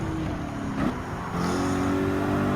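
Gr.4 race cars in Gran Turismo 7, including an all-wheel-drive car, roar along a track section with a chicane, a steady engine drone that lifts in pitch partway through as a car accelerates.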